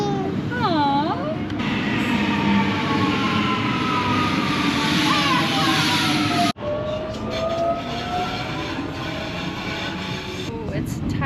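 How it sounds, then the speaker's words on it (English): A train rides along the rails in Australia: a steady, loud rumble from inside the carriage with high, gliding wheel squeals, a brief dropout midway, and faint voices in the background. "A train."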